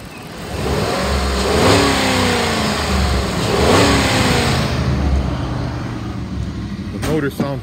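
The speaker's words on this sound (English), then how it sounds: "I'm gonna rev it up so you can hear the motor." A 2008 Jeep Grand Cherokee Laredo engine is revved twice, each time rising to a loud, close roar and falling back toward idle, followed by a brief rattle at the end.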